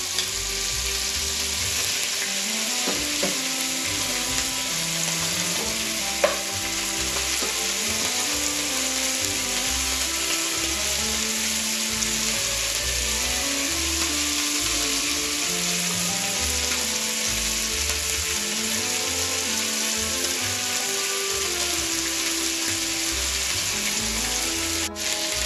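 Beef pieces brown in a hot pan for beef bourguignon, giving a dense, even sizzle that holds at a constant loud level throughout, with a faint tune running low beneath it and an occasional small clink.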